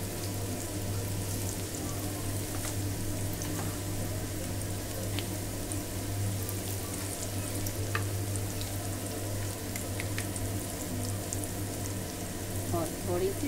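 Poha ingredients roast in a pan on the stove, a soft, even sizzle holding steady under a constant low hum, with occasional faint clicks and no speech.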